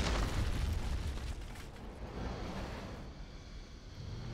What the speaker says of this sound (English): Oh, here comes the explosion. Another explosion.